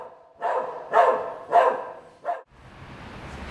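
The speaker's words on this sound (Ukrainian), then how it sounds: "Лаяння собак" Dogs bark several times indoors in a Sumy apartment building, about four sharp close barks in quick succession, followed by quieter background noise.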